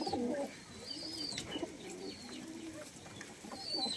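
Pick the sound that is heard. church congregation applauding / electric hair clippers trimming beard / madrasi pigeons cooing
madrasi pigeons cooing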